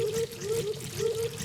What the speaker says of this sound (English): I need to drink some water